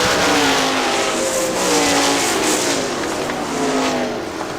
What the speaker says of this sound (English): Until lap 3 when Ray Shank found the high side, and he goes around Steeman in turn 4 to take the lead